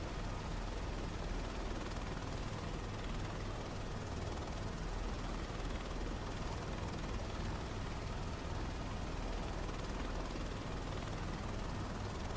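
Helicopter in Microsoft Flight Simulator 2024, a steady, even rotor-and-engine roar holding constant throughout at a low, distant-sounding level with no talk.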